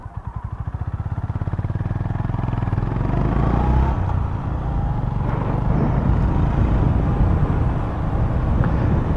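A 2025 Honda GB350S single-cylinder motorcycle pulls away with a thumping exhaust that rises in pitch, climbing through gears with loud, continuous engine drone and road rumble, no talk.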